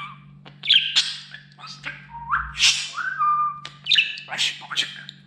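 A pet budgerigar chirps, whistles and squawks in quick, bright bursts close to the microphone, with a person briefly speaking a single word among the calls.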